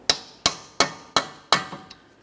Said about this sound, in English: we'll continue on with a hammer and punch directly in the center of the axle